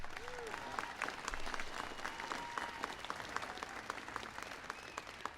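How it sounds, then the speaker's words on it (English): Audience at a White House ceremony honoring the 2012 World Champion San Francisco Giants applauds, a soft, fairly distant wash of many hands clapping steadily with faint murmuring beneath. "Give them a big round of applause."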